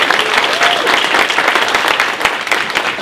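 An audience at a Seattle launch event applauds a sponsor, dense loud clapping that holds steady for about three seconds, with faint talk underneath.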